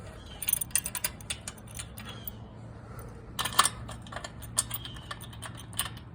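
Crescent wrench working a chain link fence gate fitting, giving a string of close metallic clicks and scraping ticks in irregular bursts, fairly quiet against a low background hum.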